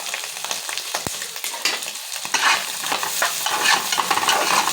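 Ginger and turmeric are stirred in a hot frying pan for egg rice. Close, busy scraping strokes ride over a lively sizzle that grows louder and denser toward the end, with one sharp knock near the start.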